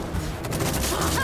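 Cartoon gunfire erupts in a loud, dense burst of rapid shots with crashing impacts, filling the whole short moment without talk.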